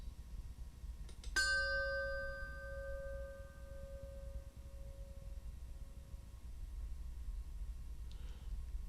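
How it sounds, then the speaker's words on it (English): A single chime is struck once during a worship service and rings with clear, sustained tones that fade slowly over several seconds in a quiet room. "As we listen to the chime, let us remember our connection to each other and the world around us."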